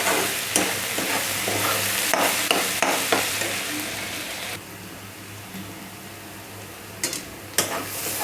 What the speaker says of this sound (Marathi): आपला कांदा चांगला भाजला आहे, फ्राय झाला आहे. अजून थोडा वेळ फ्राय करून घ्यायचं याला.